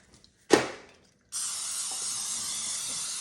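Cooking spray hisses onto a bread pan: one short burst first, then after a pause a longer, steady, close spray that runs to the end.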